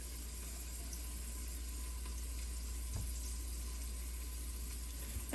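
Garlic frying in hot oil with whole spices for yakhni pulao, a steady soft sizzle running evenly throughout with no talking.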